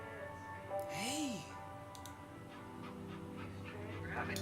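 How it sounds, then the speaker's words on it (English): A real puppy gives a short, rising-and-falling whimper and light panting close by, with a person talking over and around it. "It's a real puppy."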